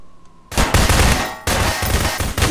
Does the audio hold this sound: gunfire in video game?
yes